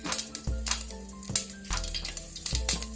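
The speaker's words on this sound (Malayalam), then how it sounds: "കടുക് പൊട്ടുണ്ട്" Mustard seeds splutter and pop in hot coconut oil in a pan, sharp scattered crackles with short bursts of sizzling and a few metallic clinks.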